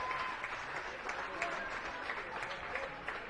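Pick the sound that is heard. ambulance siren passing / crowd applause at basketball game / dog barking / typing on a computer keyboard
crowd applause at basketball game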